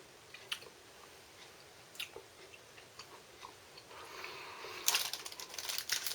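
Strong mint chewing gum pellets from a British Army ration pack being chewed close to the microphone, with soft, irregular wet clicks and squishes that grow busier toward the end, no talk.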